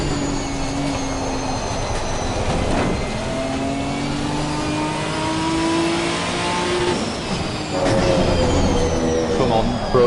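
A Ginetta GT4 race car engine in Assetto Corsa Competizione, loud and sustained as it revs and shifts through gears with rising and falling pitch, continuous throughout.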